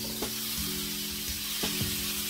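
Diced taco meat sizzles steadily in a hot pan, a close, continuous frying hiss with faint tonal sounds beneath and no talking.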